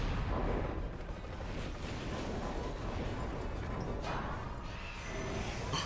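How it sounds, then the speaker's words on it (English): Kiryu's Zero Cannon attack in the Godzilla: Destroy All Monsters Melee video game blasts as a dense, roaring barrage of explosive noise, sustained and loud throughout with rumbling booms and crackling bursts. "Oh, that was a Zero Cannon."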